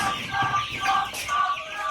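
Chickens cluck and murmur close by in a short, soft, continuous burst of fowl chatter.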